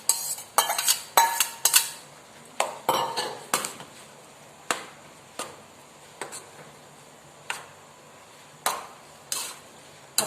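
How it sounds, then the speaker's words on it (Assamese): A spoon clinks and scrapes in a pot as fried beans and carrots are poured and stirred into boiled Maggi noodles, with irregular sharp knocks, some bunched together and others spaced apart, over a faint background. "এতিয়া মই ভাজি ৰখা বিন আৰু গাজৰখিনি ইয়াতে ঢালি দিম"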